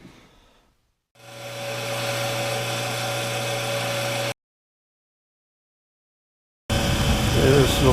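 A small lathe motor whirs up to a steady mechanical hum with a faint grinding as a step drill bores, runs for a few seconds, stops, then a louder machine noise resumes.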